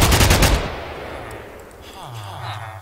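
A P90 submachine gun firing in a Minecraft Flans mod, a rapid burst of loud close shots for about half a second, then a fading echoing tail with faint game sounds.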